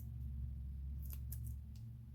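Scissors snip through double-sided 3D foam tape to make small strips, giving a few quick, faint cuts close by over a steady low hum, with no talking.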